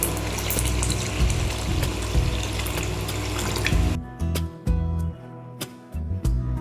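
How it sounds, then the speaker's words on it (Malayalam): Second extract of coconut milk pours into a pot for ada pradhaman, a steady close rushing of liquid that stops abruptly partway, followed by scattered clinks and knocks. "നമ്മുടെ രണ്ടാം പാൽ ഒഴിക്കുന്നു"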